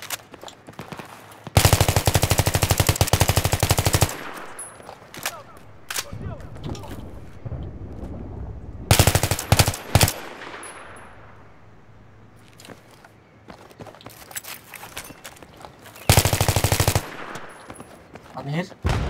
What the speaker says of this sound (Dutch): Ik hoor hem net schieten